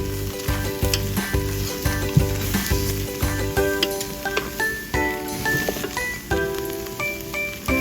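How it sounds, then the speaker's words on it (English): Raw rice stir-fried with long beans and other ingredients, hissing and sizzling steadily in a hot pan, with repeated stirring scrapes under fairly loud background music. "add the raw rice and stir-fry together"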